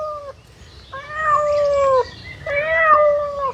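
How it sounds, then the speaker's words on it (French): A cat at the Peaugres safari park meows loudly and close by, giving three drawn-out, wavering meows with short pauses between them and no talk. "C'est un chat?"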